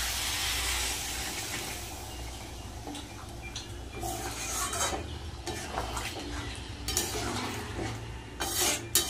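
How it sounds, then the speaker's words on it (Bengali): Water poured into a hot pan of spicy soybean curry sets off a steady hiss and sizzle with stirring, close and continuous, with a few louder scraping and bubbling bursts toward the end. "অল্প করে জল দিয়ে দেবো"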